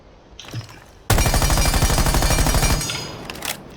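Rapid automatic gunfire on the Rainbow Six shooting range in a video game, a dense sustained burst of shots lasting under two seconds, loud and close, then a ringing tail with a few faint clicks.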